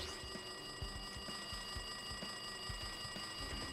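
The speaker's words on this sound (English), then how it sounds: "It looks like that phone is ringing." A telephone rings without pause in the Danganronpa 2 video game, a steady electronic ring with bright sustained tones that carries on for the whole stretch over a pulsing low background.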